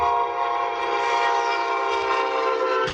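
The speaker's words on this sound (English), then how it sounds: "a driver gets her car stuck on the tracks on Friday as a Brightline train approaches" A Brightline train approaching a Central Florida railroad crossing sounds a loud, sustained horn that holds for about three seconds before cutting off abruptly.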